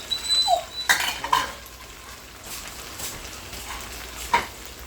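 Onions and garlic fry in a pan with a low, steady sizzle, broken by a few sharp clinks and scrapes of a utensil stirring them.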